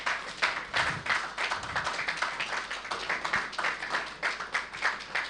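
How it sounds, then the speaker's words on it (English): A large town hall audience claps in a dense, continuous round of applause that stays fairly even and moderately loud throughout, with no talking over it. "please can we have a massive round of applause?"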